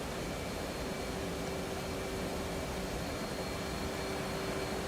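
An F/A-18C jet engine roaring in afterburner in the DCS flight simulator, a steady, dense, loud rushing roar that holds without a break.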